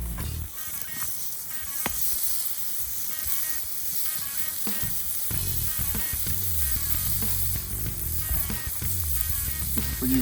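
Burgers sizzle on a camp grill at an off-grid forest campsite, giving a loud, steady, close frying hiss with scattered pops and crackles throughout.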